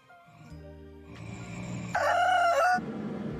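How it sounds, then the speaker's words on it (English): A cockerel crows loudly and close by, a single long cock-a-doodle-doo rising to a strained peak before breaking off. "Cockerel."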